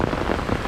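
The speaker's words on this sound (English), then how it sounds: "That rain is coming down my back." Heavy rain pours onto dry ground and surfaces nearby, a dense, loud, steady patter throughout the brief moment.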